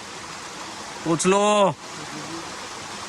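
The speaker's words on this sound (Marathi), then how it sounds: "झऱ्यावरती पोचलेलो आहे." A flowing stream makes a continuous broadband rushing hiss, with a man's brief spoken words rising over the water in the middle.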